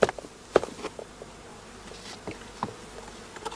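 Honey bees from a shook swarm buzz softly in a beekeeping brood box, a low steady drone broken by scattered knocks and taps, with no voices.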